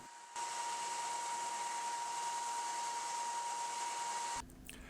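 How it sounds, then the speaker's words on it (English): A belt sander runs in one steady, even whine as it profiles knife scales for a Wharncliffe knife, starting abruptly and cutting off near the end, with no talking. "Here I'm using the belt sander to help finish the bulk of the profiling on the knife scales"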